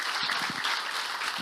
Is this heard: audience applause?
yes